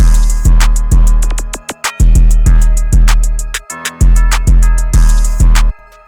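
Quick, chiming bell notes play a bridge variation, flickering rapidly across a loud, bass-heavy Detroit-style beat, with brief pauses where the groove drops out before kicking back in.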